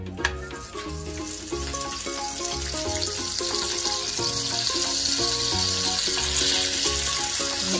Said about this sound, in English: the sugar has melted, so I'm going to add in a tablespoon of butter